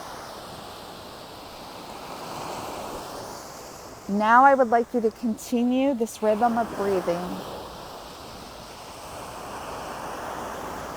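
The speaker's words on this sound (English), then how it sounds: "With each inhale, listen to the ocean waves." Ocean waves wash in a soft, continuous surf that swells and recedes gently. A calm voice speaks briefly over them midway, and the waves carry on alone afterward.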